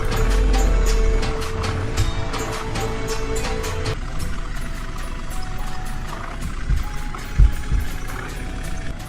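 A truck in an Indian tractor-driving video game pulls up to a showroom, its engine a steady, loud rumble that shifts partway through, with a brief thud near the end and no talking.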